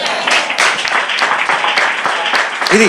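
A church congregation claps loudly and steadily, a dense roar of hands close by, with a brief voice rising over it at the very end.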